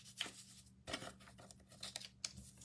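Scissors snip through a sheet of cardstock in a few quiet, close cuts, soft crisp clicks and slices over a faint steady background hum.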